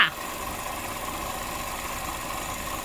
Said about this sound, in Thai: นี่จะเป็นเสียงเครื่องยนต์ค่ะ